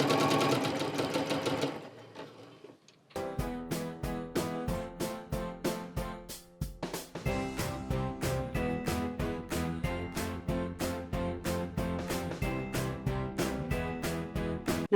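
A sewing machine stitches across fabric while making crayon holder sew-and-sell projects. It runs in a fast, even rhythmic chatter, pauses briefly, then picks up again in steady bursts, loud and close with no talking.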